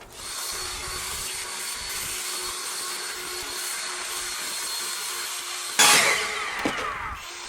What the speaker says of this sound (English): It all depends on how strong your leaf blower is, of course.